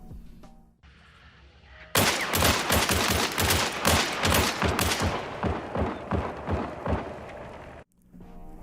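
Rapid volleys of gunfire from a paired set of Nagant Officer double-action revolvers in the game Hunt: Showdown, loud sharp shots fired in quick succession for about six seconds, then a sudden stop.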